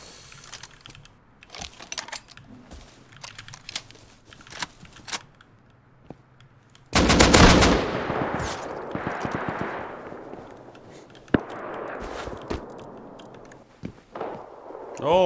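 Rust survival gameplay near a player's base: scattered sharp gunshot cracks, then a loud burst of sniper and rapid fire with long echoing tails, all mixed with clicking keyboard typing and occasional mouse clicks.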